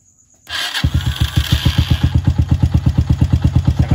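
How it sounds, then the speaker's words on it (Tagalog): A starter motor cranks a motorcycle engine, beginning with a sudden click and whir, then a fast, even chugging of compression pulses that continues close and loud to the end. "Pag pinagdikit niya, aandar siya."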